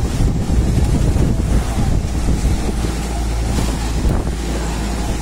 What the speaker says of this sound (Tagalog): Pero maliliit naman yung alon.